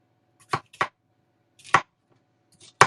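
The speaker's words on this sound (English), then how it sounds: "The reason I'm chopping these up just like that is so I can put them again through this." A knife cuts peppers into strips on a board, four sharp separate chops spaced unevenly with quiet gaps between them, close and distinct, with no talk.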